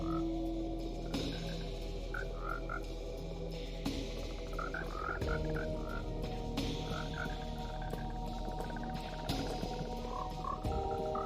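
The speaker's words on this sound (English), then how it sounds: "Go ahead and put in 21 frogs" Frogs in the Minecraft video game croak in short, repeated bursts, several at a time, over a steady low hum of game ambience, with no talking.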